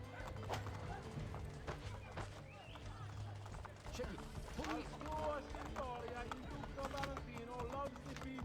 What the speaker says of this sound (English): if we ever need a horse, we can just call one